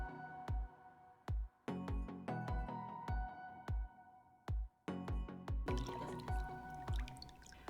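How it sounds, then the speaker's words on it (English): Honey is stirred into water for a giant bubble solution, heard as a quiet, close series of wet drips and squishy liquid plops at an irregular rhythm, growing busier and more splashy toward the end. "now we're going to start mixing until the honey is completely dissolved"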